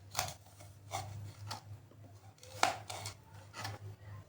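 Raw green mango is sliced with a knife in a quiet kitchen, giving soft, fairly regular cutting and scraping strokes about every half second, with one sharper click partway through.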